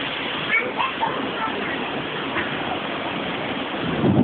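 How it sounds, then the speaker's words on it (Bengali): Heavy rain pours among buildings in Dhaka's Lalmatia area, a steady broadband hiss of falling water throughout, swelling slightly toward the end. "এই বৃষ্টি তুলি।"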